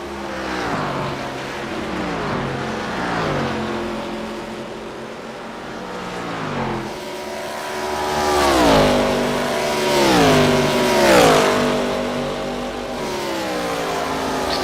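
ARCA stock cars race at Indianapolis, their engines roaring and rising in pitch as they sweep past one after another in repeated waves, loud and continuous with no talk.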